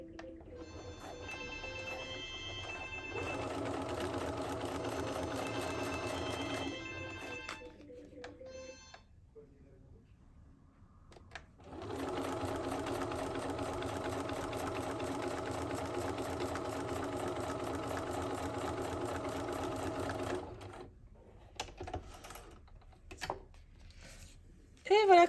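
Sewing machine fitted with a walking (double-feed) foot, stitching a topstitch along a fabric edge in two sustained runs of motor whir with a pause between, then quiet handling noises at the end.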